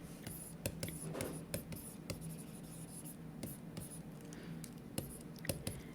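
Soft pen strokes scratching across paper while a chemistry titration calculation is written out, with quick irregular taps and scribbles, close and faint, over a quiet room hum.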